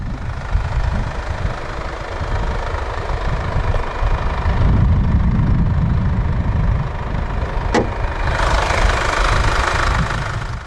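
The Mercedes OM651 2.1-litre common-rail turbodiesel inline-4 in a 2016 Infiniti Q30 2.2d AWD idles with a steady, close, gravelly clatter and one brief sharp click near the end.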